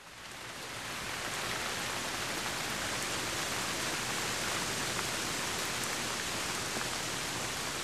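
Steady rain falling and pattering on surfaces outdoors on city streets, a dense even hiss that swells in over the first second and then holds constant and close, with no voices.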